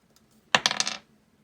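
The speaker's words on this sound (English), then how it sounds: "I roll an extra die." Dice clatter briefly onto a hard surface during a dice game, a quick burst of several sharp rattling clicks lasting under half a second, nearby and fairly loud, with no voices.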